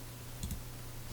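A single computer mouse click, quick and soft with a double tick, heard close against quiet room hum while working in Microsoft Access.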